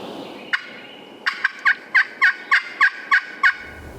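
A wild turkey gobbles repeatedly in a quick series of about eight sharp, rattling calls, clear and fairly close in a quiet setting.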